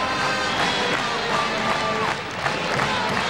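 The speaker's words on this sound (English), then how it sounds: "obviously Seton Hall crowd come to life here with the Pirates taking the lead here in the latter stages of the game" A Seton Hall crowd at a men's college basketball game against Rutgers roars in steady, dense cheering that fills the arena, with a commentator's voice running over it.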